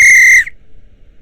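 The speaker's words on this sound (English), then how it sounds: "I got a new whistle. It's a proper Acme Thunderer." An Acme Thunderer 58.5 railway guard whistle gives one loud, shrill, trilling blast lasting under half a second, then cuts off to near silence.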